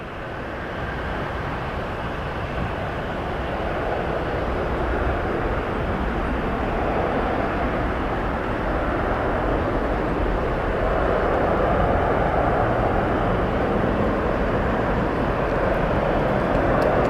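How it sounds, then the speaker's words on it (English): Alaska Airlines Boeing 737-900 taking off for Dallas, a loud broadband jet roar that holds steady and swells slightly over the whole stretch. "There goes our Alaska 737-900 off to Dallas."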